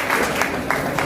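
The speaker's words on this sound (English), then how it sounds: "applause." Round of applause from an audience at the close of a talk on health information management in a medical laboratory, a steady dense wash of many hands clapping with a few stronger swells, brief and unbroken.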